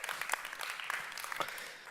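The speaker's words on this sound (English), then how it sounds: "Really, clap for him." A stand-up comedy audience claps together in a brief, faint burst of steady scattered applause, sounding distant with no voices.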